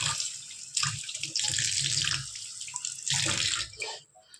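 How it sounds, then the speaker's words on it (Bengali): A wok (kadai) that sat unused for a long time is scrubbed and washed under running tap water, a steady close splash and rush with scraping, tapering off near the end. "এই যে কড়াইটা আমি মাজবো, কারণ অনেক দিন ভিতরে পড়েছিল, তাই মাজা হয়নি"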